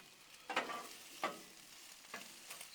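Sausage stirred in a pan alongside tortellini, a quiet sizzle broken by three or four separate scraping strokes of the spoon, faint and close, with no talking.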